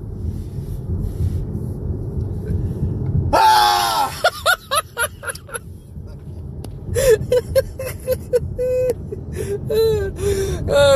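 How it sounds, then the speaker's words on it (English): A person lets out a loud, sudden scream in a horror-film style during a truth-or-dare game, followed by gasps, laughter and lively talk from several people. "Scream like you're in a horror film."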